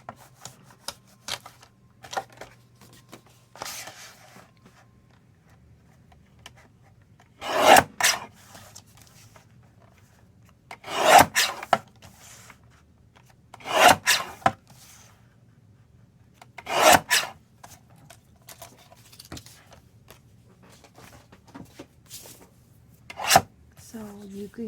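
Card panels being cut to size for handmade gold spider web cards, heard as several short, fairly loud bursts of rasping cutting strokes spaced a few seconds apart, with quiet gaps and a low steady hum in between.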